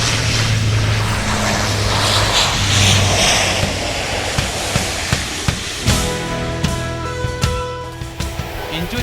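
A propeller airplane drones past near a beach at Pangandaran, its engine roar swelling loudly then receding, followed by scattered knocks and a steady tonal hum as the noise fades.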